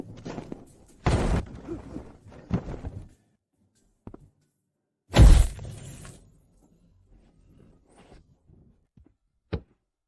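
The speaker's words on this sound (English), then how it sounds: "That maniac smashed the door!" Loud smashing impacts against a door, a few heavy crashing bursts with splintering tails, separated by short pauses and a couple of softer thuds, close and otherwise quiet.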